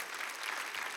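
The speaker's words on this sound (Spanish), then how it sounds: "Damos un aplauso al Señor por todo esto." Congregation applauding at a church service, a steady dense wash of clapping filling the whole moment at moderate, even loudness with no voices.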